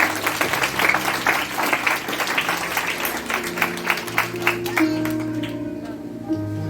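Loud applause from a church congregation fills the room, steady clapping that fades as sustained music tones rise underneath.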